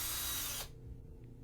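A small power drill whirs loudly at close range for about half a second, then cuts off abruptly, leaving quiet room tone.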